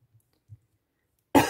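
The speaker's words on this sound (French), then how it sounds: "Pardon pour la toux." A woman at a desk during a circular-loom knitting session gives one abrupt, loud cough near the end, preceded by a couple of faint soft bumps in otherwise near-silence.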